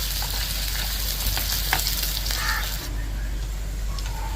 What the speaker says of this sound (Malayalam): ഈ ചുവന്നുള്ളി നല്ലൊരു ഗോൾഡൻ കളർ ആവണ വരെ നമുക്കൊന്ന് ആക്കിയെടുക്കാം